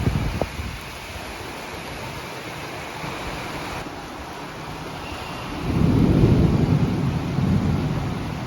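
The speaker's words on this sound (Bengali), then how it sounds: "মেঘ ডাকছে দেখছো, এত জোরে জোরে মেঘ ডাকছে" Thunder rumbles during a torrential downpour. A steady wash of heavy rain is joined by a deep, loud roll of thunder that swells in the latter half, with no voices.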